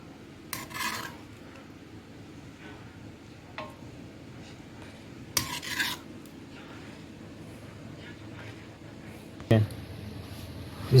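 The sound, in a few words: dishing out chicken karahi from the pan, utensils scraping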